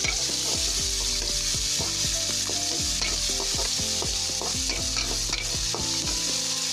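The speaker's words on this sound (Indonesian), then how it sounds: "tumis bawang sampai harum" Onions sauté in hot oil, a dense continuous sizzle with repeated scraping stirring strokes against the pan, loud and close with no voices.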